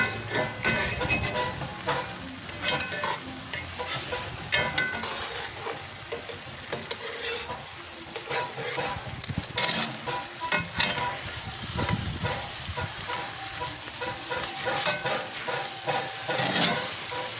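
Rib eye steaks searing in a hot pan after being flipped, a loud dense sizzle and crackle that carries on steadily with spitting bursts throughout, alone and close.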